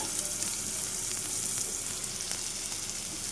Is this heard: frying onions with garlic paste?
yes